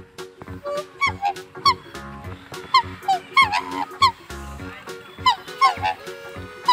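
A flock of black geese feeds on the grounds of a house in Faridpur, giving repeated nasal honks in quick, uneven bursts close by, with several calls overlapping and a voice heard now and then.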